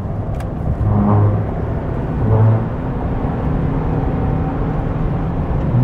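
A 2024 Chevrolet Silverado ZR2 full-size pickup truck accelerating downhill to overtake, a loud steady engine and road roar from inside the cab, swelling twice as revs rise.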